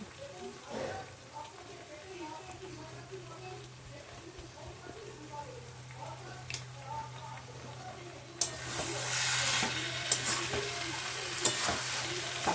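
Ghee spooned into a simmering katla fish head and cabbage ghonto with coriander leaves. A soft, steady stirring and cooking hiss turns into a louder, broader sizzle for the last few seconds.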